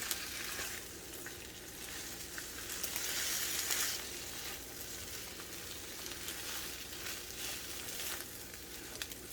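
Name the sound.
noodles and eggs frying and being folded in a pan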